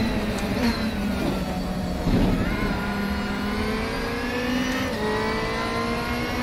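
Touring race car engines in a DTM racing game at Shanghai roar continuously at high revs, a dense, steady drone with rising pitch sweeps as cars accelerate, loud throughout with no pauses.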